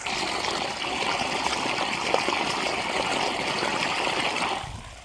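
Water from a long pump pipe pouring onto a seedling field: a steady, close, full rushing gush that holds evenly for several seconds, then cuts off sharply near the end.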